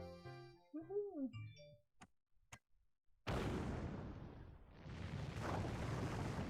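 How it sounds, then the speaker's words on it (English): Sudden loud burst of rumbling noise in the Professor Layton puzzle game, after a few sparse ticks and clicks and a musical chime, sustained and dense like an explosion for several seconds. "Oh, I thought there was an explosion."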